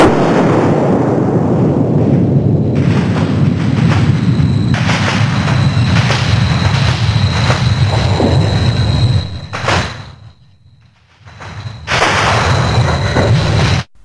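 Sped-up seismic recording of a magnitude 5.5 earthquake rendered as sound: a loud opening bang followed by sustained roaring rumble and repeated booming aftershock bursts, dipping briefly quiet before another loud surge.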